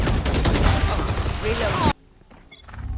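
Rapid bursts of automatic gunfire crackle densely in a Valorant-style tactical shooter match, loud and continuous for about two seconds, then cut off abruptly, leaving faint game noises and brief mechanical clicks.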